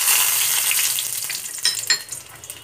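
Green chilies drop into hot oil for a chutney tempering and sizzle loudly and close by, a bright crackling hiss that eases slightly, with a few sharper pops near the end.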